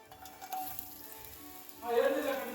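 Hot oil in a pot on the stove sizzles as a tempering for ridge gourd curry is started, a steady frying hiss that swells louder near the end, close and with no talking.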